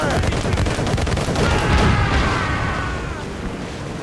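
Ship cannons firing during a naval battle in Assassin's Creed Rogue, a dense volley of booming shots rolling together loudly, with distant shouts underneath.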